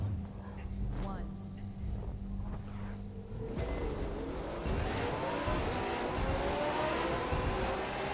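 Drift car engine in The Crew 2 on a touring car track, revving hard and accelerating up through the gears, with tire squeal and a loud, sustained roar that builds after a quieter start, while someone comments over it.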